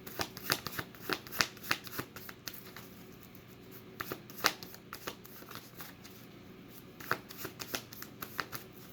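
A tarot card deck is shuffled continuously, producing a close, steady stream of papery riffles and soft slaps in uneven bursts, with no talk over it.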